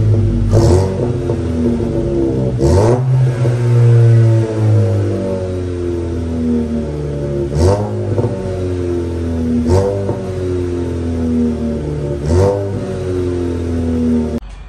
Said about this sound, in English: I have the AWE track exhaust.